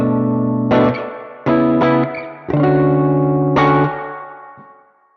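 Electric guitar through a Meris Mercury X plate reverb pedal: a few strummed chords ring out in turn, each with a long, smooth, shimmering tail, loud and close with no talking.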